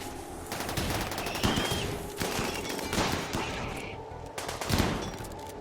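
Dense, rapid gunfire crackles throughout a Rimworld battle, with overlapping shots and bursts forming a continuous fusillade that swells and ebbs in several loud peaks.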